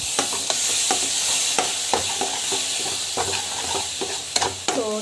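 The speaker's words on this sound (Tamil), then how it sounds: "ஸோ டமாட்டோ ஆட் பண்ணி நல்லா வந்து வதக்கிக்கோங்க." Tomatoes sautéing in a hot pan for a kidney-friendly home dish, with a steady close sizzle broken by repeated scrapes and clinks of a spoon stirring, and no talking over it.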